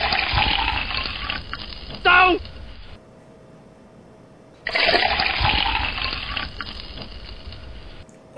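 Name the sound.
pouring warm water into flour for ravioli dough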